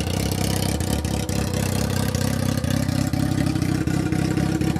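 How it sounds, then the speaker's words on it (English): A 2008 Yamaha YZF-R6 sport motorcycle's stock exhaust idles with a deep, steady, throbbing rumble, loud and close, running continuously without talk. "it has a sinister sound in its exhaust system."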